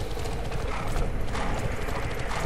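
Horse hooves clip-clopping in the online role-playing game Bless Online, a steady, fairly loud rhythm of hoofbeats over a dense background of game sound, with no talking.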